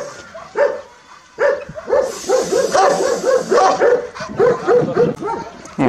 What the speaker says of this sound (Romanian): Câinii de genul ăsta.